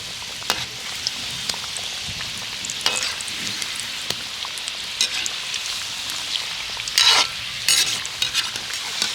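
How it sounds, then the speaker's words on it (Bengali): Flour-dough breakfast snacks fry in hot oil, a dense continuous sizzle with repeated scraping and clacking as they are stirred and turned, close and fairly loud, with no voices. "একটু এইভাবে নেড়ে চেড়ে আমি ভেজে নেব"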